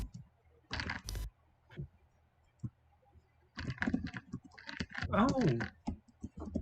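Typing on a computer keyboard comes in bursts of close clicking and key taps, paused between runs, with a brief spoken exclamation and other voice sounds mixed in.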